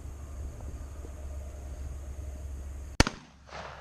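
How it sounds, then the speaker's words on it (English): A single loud shotgun blast fired at a pumpkin target cracks out near the end, following quiet outdoor ambience with no talk. "Go ahead and shoot the target."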